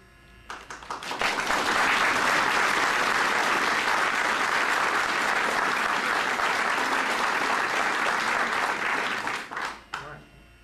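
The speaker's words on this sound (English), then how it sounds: "try to hold applause till the final round" Sustained, loud applause from an audience at a 2008 Farmers Branch city candidates debate, swelling in quickly, holding steady for about eight seconds, then tapering off with a few scattered claps at the end.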